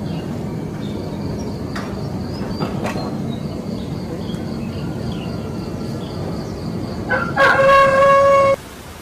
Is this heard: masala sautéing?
no